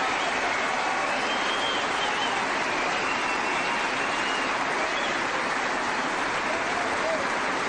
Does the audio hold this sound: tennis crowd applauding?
yes